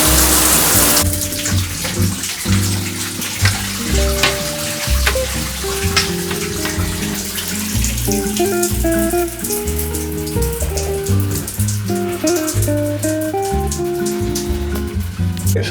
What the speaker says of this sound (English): Okay, so I just pulled this out the shower